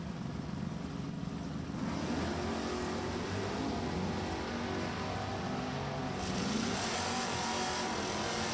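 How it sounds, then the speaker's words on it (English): Drag racing cars, a 1971 Charger and a small block Camaro, at Maple Grove Raceway, with a steady, fairly distant engine roar and a brief rising swell near the end. "Doyle Evans as the small block Camaro out of Jacksonville, North Carolina."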